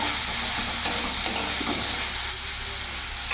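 Vegetables with turmeric and cumin powder fry in a hot pan and are stirred: a constant loud sizzle and hiss with soft scraping strokes of the spatula, close and without talk.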